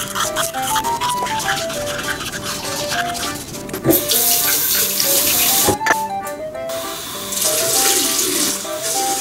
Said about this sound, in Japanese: こんな感じで顔を洗って歯磨いて